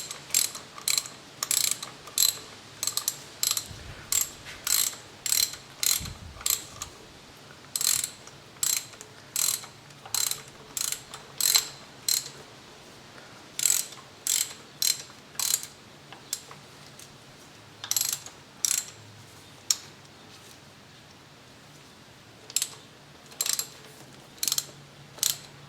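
Ratchet clicking in steady bursts while a spark plug is tightened into a Mazda Protege engine, close and crisp, each stroke giving a short run of rapid ratchet-pawl clicks with brief pauses between.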